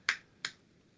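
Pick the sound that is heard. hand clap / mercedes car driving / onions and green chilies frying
hand clap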